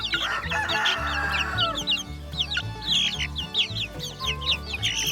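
Chickens cluck and peep steadily, the sounds of a hen with her chicks close by, with several overlapping calls and no talk.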